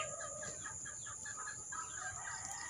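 Free-range chickens clucking outdoors: repeated short clucks and calls in an uneven rhythm, fairly faint and a little distant, over a steady background hum, with no talk.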